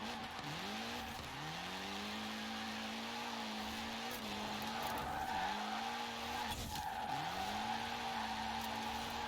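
Triumph TR7 drifting in Forza Horizon 4, with repeated rising engine revs and sustained tire squeals in bursts over about nine seconds, loud and close with no talk.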